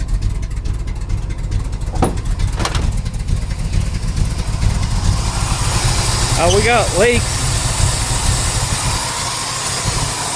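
A truck engine running right after a carburetor install, with the choke not hooked up and fuel leaking: a loud, steady, rumbling idle throughout, close by, as someone talks over it.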